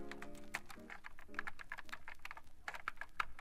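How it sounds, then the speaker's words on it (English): Rapid, uneven keystrokes clatter on a computer keyboard, with bursts of clicks and short pauses, fairly close and quiet. "Simon typed on his computer."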